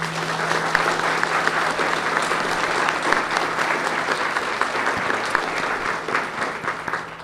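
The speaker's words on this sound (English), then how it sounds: "would you give them a nice round of applause?" Sustained applause from an audience at a county spelling bee for fifth and sixth grade children, many hands clapping in a dense, even roar that carries on for several seconds and tapers slightly at the end.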